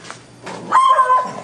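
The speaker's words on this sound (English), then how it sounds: "Got the guard dog." A guard dog kept in a warm outbuilding at a helicopter operation in Garden Valley barks a few times close by, a short sharp yelp followed by a longer whining bark.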